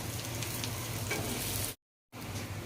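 Khandeshi landge fry in hot oil with a loud, busy bubbling sizzle, cut off abruptly by a short silent gap before the frying resumes, and no voices.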